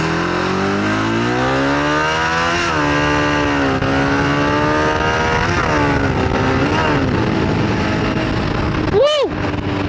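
Motorcycle engine heard from the rider's helmet on an open road, a loud, continuous drone whose pitch climbs and dips through gear changes and throttle swells over steady wind rush, with a voice speaking at points.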